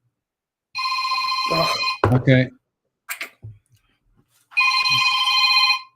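A telephone rings in two loud electronic bursts near the start and end, with a person's brief speech and small noises in between.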